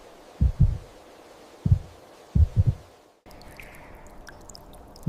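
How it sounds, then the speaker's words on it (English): Slow heartbeat of an animal frozen alive and burrowed beneath the permafrost, heard as a few low, deep thumps in close pairs, fairly loud and spaced apart, alone, before a quieter hiss with faint high clicks takes over. "Heart beating only once or twice a minute"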